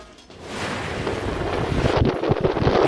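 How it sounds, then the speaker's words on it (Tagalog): Strong typhoon wind from Typhoon Marce in Ilocos Norte, Philippines, roars and buffets the microphone continuously, with gusts building louder toward the end; no voices. "Ramdam din ng malakas na hangin"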